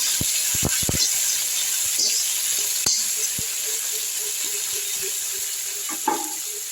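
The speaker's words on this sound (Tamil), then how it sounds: "இதில் வந்து மல்லியும் புதினாவும் போட்டுப்போம் வறுத்து விட்டுடலாம்" Coriander and mint leaves fry in a pan for coconut rice, a constant loud sizzling hiss close by, with a few sharp clinks and stirring taps near the start and no one speaking.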